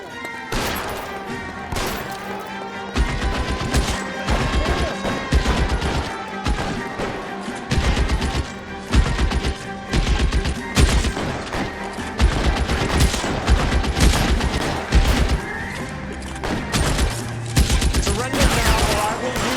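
Gunfire rattles through a shootout in the video game L.A. Noire, with dense bursts of shots and sharp cracks repeating for the whole stretch, mixed with a few shouted voices.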